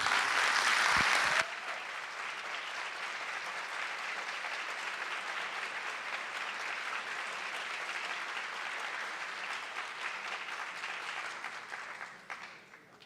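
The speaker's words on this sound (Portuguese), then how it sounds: "eu vou pedir uma salva de palmas para quem não está aqui" An audience at an academic talk claps steadily in sustained applause for several seconds, a dense even patter that fades out toward the end.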